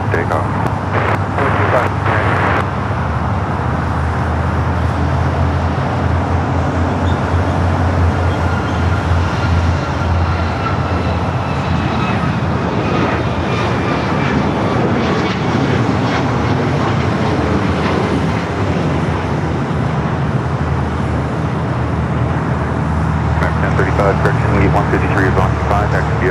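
A jet airliner taking off from runway 25 right at LAX, a broad, sustained roar that holds steady throughout at moderate loudness, with brief clicks and crackles near the start and end and speech over it.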